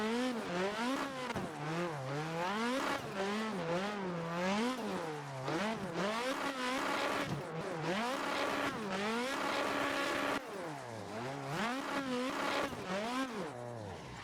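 Drifting car in the Assetto Corsa racing game, engine revving in rising and falling sweeps with tire squeal throughout, loud and continuous for the whole stretch with no talking.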